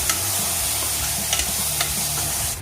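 Curd being stirred into sizzling kuska masala with chilli powder in a hot pan, a steady close frying hiss under a few soft scraping stirs, no talk.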